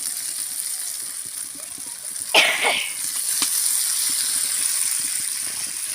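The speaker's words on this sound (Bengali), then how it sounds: "এবার আমি ডিমগুলো দিয়ে দেবো" Duck eggs drop into hot oil in a pan with a sudden sharp hiss, then settle into a steady, close sizzle of frying.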